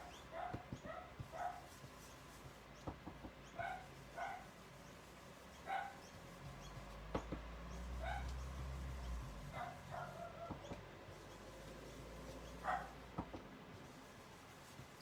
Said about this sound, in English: What is that dog going on about?